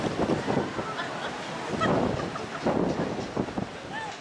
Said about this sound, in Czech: Ale je vítr, velké vlny a trajekt nejezdí.